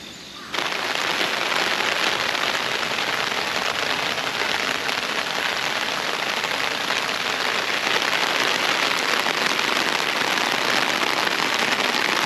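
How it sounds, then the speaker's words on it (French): Light rain falls in a small park in Machida, a steady even hiss of drops on surfaces that starts abruptly and continues unbroken, with no one talking. "Je crois qu'il pleut un peu."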